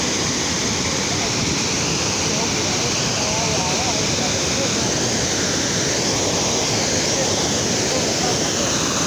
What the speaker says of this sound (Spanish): enorme caída de agua.